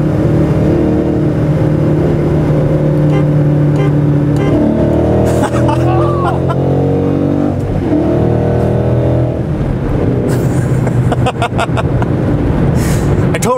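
A Ford Mustang GT 5.0 with a solid rear axle accelerates hard while racing another car, its engine note climbing through rising revs and gear changes, loud and close throughout with brief voices.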